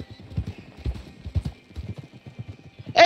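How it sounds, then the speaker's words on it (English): Horse hooves in the video game Red Dead clip-clop in a quick, uneven rhythm as the horse approaches, fairly close. A brief bright sound cuts in at the very end. "Hey, there's my horse."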